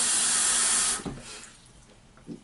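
Tap water runs loudly into the reservoir of a Jetpik JP50 Ultra rechargeable dental flosser for about a second, a steady rushing hiss that stops abruptly, leaving faint handling sounds.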